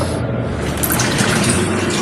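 Water pours onto cooked pasta, a steady splashing, gushing rush that runs close and continuous for about two seconds with no talking.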